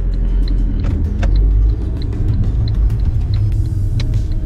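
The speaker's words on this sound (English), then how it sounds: "There's a car coming" A car passes on a rural road in a North Lincolnshire parish near Epworth, a loud steady engine rumble and tyre roar that fills the clip, close by, with no talk over it.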